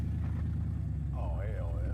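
A V8 turbo Subaru Forester engine idles with a steady low rumble and surges unevenly while still cold, heard from inside the car with a voice talking over it.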